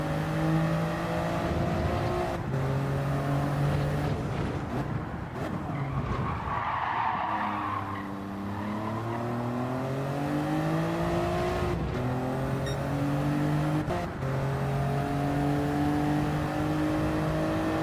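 Race cars in Gran Turismo 7 skidding and sliding with sustained tire squeal over loud engine drones that rise and fall through gear changes, several cars close together on track.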